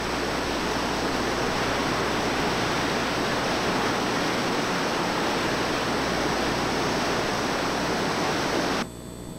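Dense, roaring rush of whitewater at Double Z Rapids on the New River pours continuously, loud and close, like churning rapids, dropping abruptly near the end.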